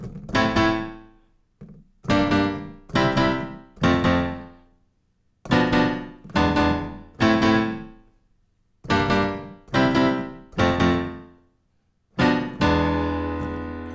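Keyboard plays a jazz hip-hop chord progression in short, rhythmic stabs, grouped in repeating pairs and triples with pauses, ending on a longer sustained chord.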